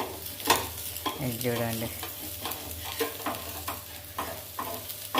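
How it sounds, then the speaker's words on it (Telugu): Pesarattu, a mung bean crepe with onion, sizzles on a hot pan as the batter is spread and stirred, a soft crackling frying noise with scraping strokes and someone speaking briefly. "నేనైతే పెసరట్టు వేసుకుంటున్నానండి"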